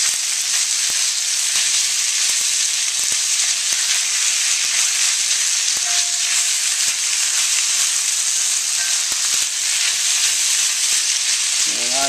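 Instant ramen noodles spread thin in a hot wok for a pork, shrimp and vegetable stir fry, giving a loud continuous sizzle and hiss with a few faint clicks of stirring, no talking.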